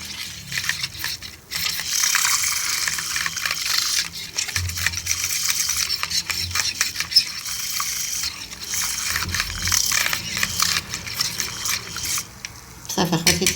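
A spoon stirs a homemade pore-tightening skin cream mixture in a bowl, making repeated wet scraping and squishing sounds. The stirring goes on steadily, with brief pauses.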